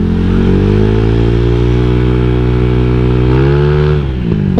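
A modified motorcycle engine revs hard and accelerates, its loud, steady harmonic roar climbing in pitch for several seconds before a brief dip and a fresh surge at the end.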